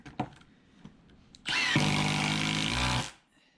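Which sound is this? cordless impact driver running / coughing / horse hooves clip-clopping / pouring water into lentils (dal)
cordless impact driver running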